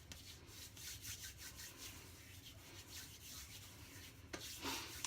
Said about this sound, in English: Rub the rest into my hands